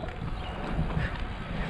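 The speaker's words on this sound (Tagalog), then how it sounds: "Lakas ng hangin." Strong cold wind buffeting the microphone of a cyclist outdoors in Toronto, a steady loud rumbling roar with gusty low thumps throughout.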